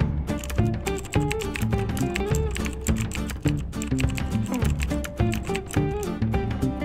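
Steady, fast typing on a computer keyboard entering a redeem code, close and clear, with dense clicking keystrokes and no talking, layered over a faint tonal backing.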